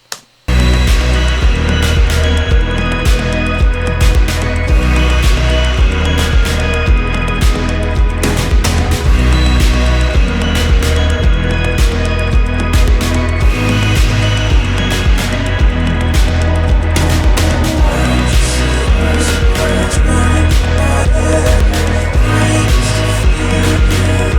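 A full band plays a big, dense closing section, with guitar, piano and pounding drums blending into a loud, sustained wall of sound.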